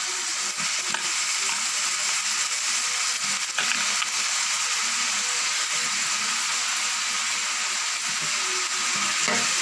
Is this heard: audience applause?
no